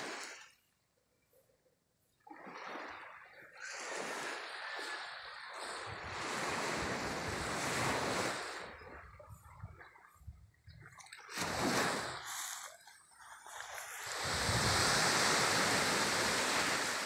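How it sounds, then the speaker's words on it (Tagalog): Ocean waves roll and crash close by, surging in broad swells with gusty wind buffeting the microphone between breakers. "napaka sarap pakinggan yung ano ng alon"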